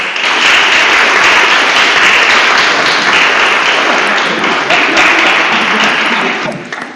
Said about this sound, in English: Professor Andreas and Dr. Sylvia, I think they do deserve another applause, don't they?